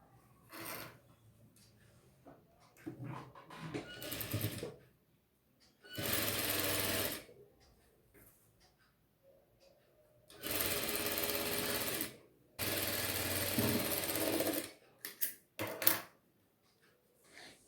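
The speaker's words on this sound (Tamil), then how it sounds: "இப்போ நான் ஸ்டிச்சிங் பண்ணிவிட்டு உங்களுக்கு நான் காட்டுறேன்." A sewing machine runs in several short bursts, stitching a folded quarter-inch waist hem on baby shorts, loud and close, with quiet pauses and handling noises between runs.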